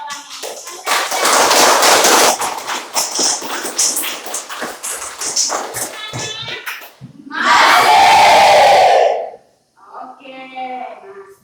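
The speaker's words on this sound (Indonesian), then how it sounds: "Kita berikan aplaus buat teman Anda berdua yang telah memberikan jawaban." A classroom group applauds two students who gave answers, with a burst of dense clapping and cheering, then a loud shout of voices, and talking between.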